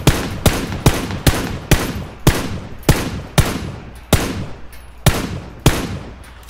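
A rapid volley of about eleven sharp, loud gunshots from the battle-royale game PUBG, each crack evenly spaced roughly half a second apart with a short decaying tail, and no voices.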